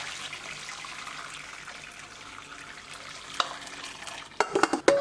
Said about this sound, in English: We're going to drain the water from chicken.